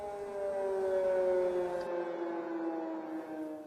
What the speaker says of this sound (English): As air raid sirens blare out across Kyiv